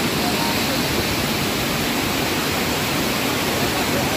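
Rushing mountain water of a waterfall at Amboli Ghat in the rainy season, a steady, loud, broadband roar filling the whole clip without a break.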